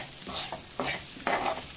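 Garlic chili rice mixture being stirred in a pan, a garlic chili rice dish: three scraping, sizzling strokes, each louder than the last, close and alone.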